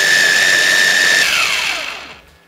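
A blender loudly whirs through garlic, shallots, galangal and lemongrass with water, holding a steady high motor whine before spinning down and fading out.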